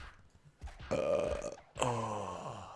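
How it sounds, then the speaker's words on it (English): A single loud, drawn-out burp from a person during a game session, starting with short grunting bursts and then swelling into two long croaking stretches close to the mic, with no talk. "Oh, I got a burp,"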